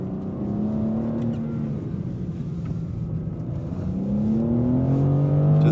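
A 2026 BMW M2 CS engine revs and accelerates steadily through a wet slalom, its rising whine climbing in pitch toward the end, loud and close with continuous road rumble.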